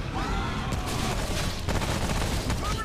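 Video game gunfire, a dense rapid burst of shots and booms running throughout, loud and close.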